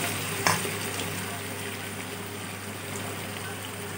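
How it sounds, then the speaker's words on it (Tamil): Potato and carrot sautéing in a pan for rava kichdi: a steady, moderate frying sizzle with a brief clatter of stirring near the start, no voices. "உருளைக்கிழங்கு கேரட் மூணு சேர்த்து வதக்கிட்டு வந்துடலாம்"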